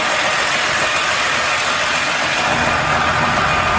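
A 2009 John Deere 7350 four-wheel-drive tractor with a 13.5 liter, 472 horsepower engine idles nearby, a loud, steady drone with no pauses and no voices.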